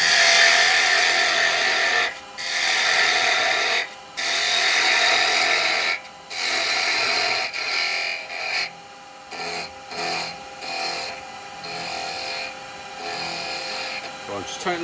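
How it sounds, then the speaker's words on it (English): Rasping cuts on the end of a wooden mandrel turning on a lathe, loud scraping bursts that become shorter and choppier, interrupted by gaps, with someone talking intermittently. "So I'm going to have to drill that."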